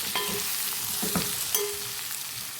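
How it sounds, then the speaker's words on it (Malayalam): Sliced bitter gourd sautéing in an oiled pan, a soft steady sizzle broken by a few scraping knocks of a spoon stirring against the metal, close and fairly quiet. "എന്നിട്ട് നമുക്കിതൊന്ന് നന്നായിട്ട് ഒന്ന് വഴറ്റി കൊടുക്കാം കേട്ടോ"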